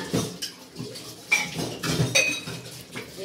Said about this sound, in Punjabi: ਸਾਰੇ ਭਾਂਡੇ ਭੁੰਡੇ ਮੈਂ ਦੁਬਾਰਾ ਸਾਫ਼ ਕਰਦੇ